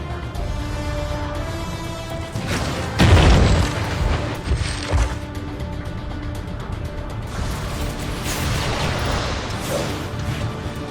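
A nuclear blast in the Transformers: Rise of the Dark Spark video game erupts as a loud, deep boom around the third second, rumbling briefly under a continuous orchestral score that carries on before and after.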